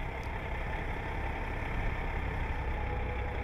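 A tractor-trailer truck's diesel engine rumbles steadily as the rig rolls slowly in reverse during an offset-right backing manoeuvre on a CDL training course, a continuous low drone with no talking.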